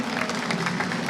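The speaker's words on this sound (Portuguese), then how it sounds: "Palmas, por favor, aqui pro Projeto Mola." Audience applause at a live talk about Projeto Mola at a crowdfunding event, a brief steady wash of many hands clapping at moderate volume with no voices over it.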